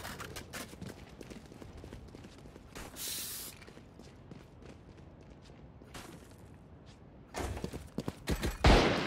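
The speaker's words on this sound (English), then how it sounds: "Reloading." Weapon reloading in a video game: a run of mechanical clicks and clacks, with louder metallic bursts near the start and at the end, over steady game background noise.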